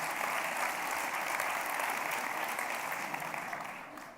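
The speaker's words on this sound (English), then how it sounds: "He stops the applause." A lecture audience claps in a sustained, even round of applause that holds steady and begins to fade near the end.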